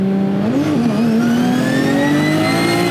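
A BMW M3 camera car accelerates hard, its engine note climbing steadily through a rising rev sweep, loud and close with no talk over it.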